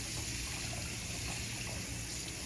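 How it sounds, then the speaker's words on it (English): A spoon is rinsed under a running kitchen tap while making apple cider coleslaw: a steady, close gush of flowing water, unbroken for the whole moment, with no voices. "We need to rinse this off too."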